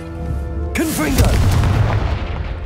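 A Confringo fire spell explodes in Hogwarts Legacy: a sudden loud boom with a crackling burst that swells and then rumbles away, cutting in after a steady hum.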